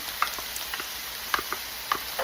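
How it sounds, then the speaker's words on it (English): Ground beef with Worcestershire sauce, ketchup and mustard is stirred in a hot pan. It sizzles steadily, with soft scattered clicks and scrapes from the spoon against the pan. "we're just gonna mix that together"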